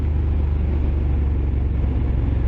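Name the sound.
Moto Guzzi Griso motorcycle engine thumping and growling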